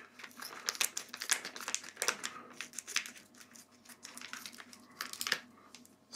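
Scissors snipping and crinkling through plastic food packaging, a rapid irregular run of sharp crackles and cuts, close and fairly quiet, with no voices.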